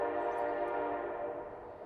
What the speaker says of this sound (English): I would mind hearing trains.